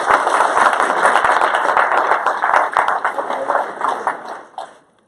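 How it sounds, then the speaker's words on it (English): An audience at an investor info session applauds, a dense, steady wash of clapping that holds for several seconds and then tapers off. "Give Charlie a big round of applause."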